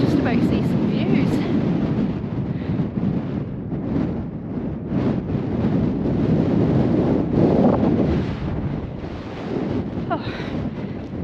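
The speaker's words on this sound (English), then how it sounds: "It's really quite windy, but it's blowing the cloud." Strong wind gusts across an exposed fell-top hiking route near Graystones in the Lake District, a loud, steady rushing roar buffeting the microphone, rising and falling throughout.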